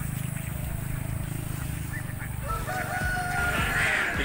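Chickens and a rooster in a provincial farmyard, a rooster crowing over a busy bed of clucking and low rumble, fairly close and continuous, with no voices.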